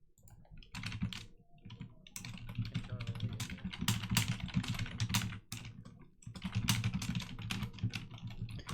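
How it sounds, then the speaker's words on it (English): Quick, uneven clatter of typing on a computer keyboard comes in bursts with short pauses, close and fairly quiet. "I don't know why I'm typing."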